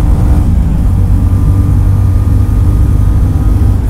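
A Royal Enfield Goan Classic 350 motorcycle pulls hard in third gear on a road, its steady low engine drone loud and close throughout with no talking over it.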